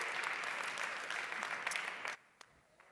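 Audience applause at a hotel technology conference, a dense, steady burst of clapping from a crowd that cuts off abruptly near the end, leaving a few faint stray claps.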